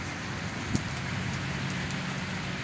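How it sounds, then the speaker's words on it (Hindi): Heavy monsoon rain in Pakistan pours down steadily in a dense, hissing wash, with one brief sharper tap standing out early on. "मूसलाधार बारिश जारी है"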